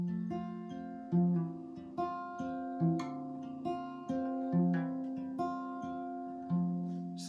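A clean electric or acoustic guitar plays a repeating picked pattern with smooth pull-off notes, steady and rhythmic, no voices.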